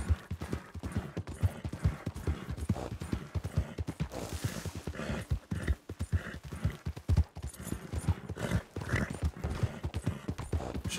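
Horse hooves pound at a gallop in the western game Red Dead Redemption 2, a continuous run of quick, even clip-clop beats. A brief whinny-like sound rises midway, and no voices are heard.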